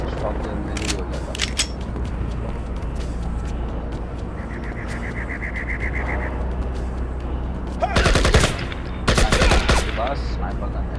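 Video game gunfire rings out in two sharp, loud bursts of rapid shots near the end, while a player talks softly through the rest of the clip.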